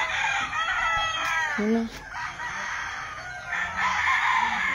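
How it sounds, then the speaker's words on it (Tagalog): Roosters crowing and chickens clucking noisily behind a house in Tacloban City, a dense continuous barnyard din with a short spoken question over it. "Yung mga Koreano ayaw nila ng maingay na manok."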